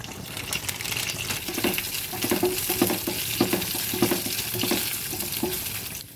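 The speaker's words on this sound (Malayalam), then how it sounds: "ക്യാഷിനൊക്കെ നന്നായിട്ട് മൂത്ത് വന്നിട്ടുണ്ട് ഈ സമയം അല്പം ഉണക്കമുന്തിരിയോട് ചേർത്ത് കൊടുക്കാം" Cashews and raisins frying in ghee in a pan for semiya payasam, a continuous close sizzle with rhythmic scraping and stirring strokes against the pan.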